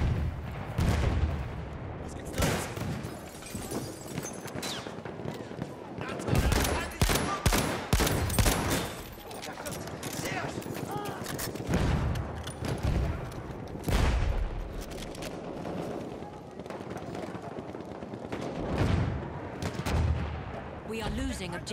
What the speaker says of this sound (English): Okay, you're under fire.